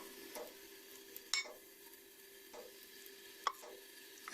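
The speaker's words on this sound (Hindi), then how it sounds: "इसको अच्छी तरह मिक्स कर लेंगे।" A spoon stirs custard powder into cold milk, giving a few soft, quiet clinks and plops with long still gaps between them and no talk.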